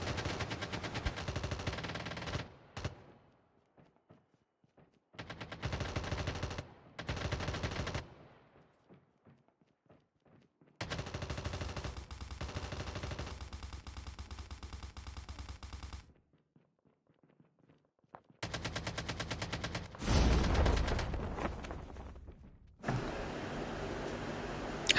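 Bursts of automatic gunfire in a Call of Duty Mobile battle royale match, with loud rapid volleys broken by short silences and a longer roaring burst near the end, and no talking.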